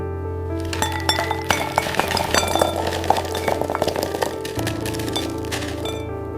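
Hard little frozen berries clatter and clink continuously, tumbling against metal on a flash-freezing factory line, over a steady machinery hum.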